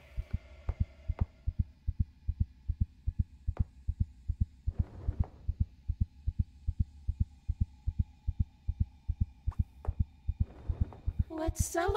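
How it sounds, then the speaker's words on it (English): Steady, thumping heartbeat in the Crimson Snow Christmas indie horror game, a regular loud double pulse running throughout over a low hum, with a few brief clicks and noises mixed in. "I'm listening for the heartbeat."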